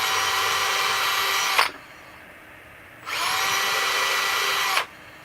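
Power drill boring into wood for grandkids' name plates, two steady high-pitched whining bursts of about a second and a half each with a short quiet gap between, close and loud with no talking.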